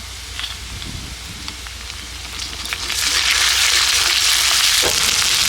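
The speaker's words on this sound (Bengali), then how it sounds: "আদা রসুন বাটা দিয়ে একটু নেড়ে নিলাম" Ginger-garlic paste frying with onions in a village kitchen pan, a steady sizzle that is briefly stirred with faint scrapes, then swells into a louder, continuous hiss.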